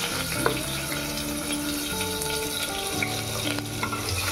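Chopped onion hits a hot pan with curry leaves while cooking a spicy eggplant masala, giving a steady close sizzle with stirring clatter and a faint hum underneath, no talking.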